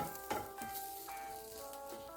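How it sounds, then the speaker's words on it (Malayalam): Finely grated coconut roasting in a pan for a pumpkin and elephant yam erisseri gives a faint, low sizzle, with a few soft stirring scrapes near the start and a louder scrape at the very end. No one talks. "തേങ്ങ ഇതിലിട്ടാണ് ഞാൻ വറുത്തെടുക്കുന്നത്"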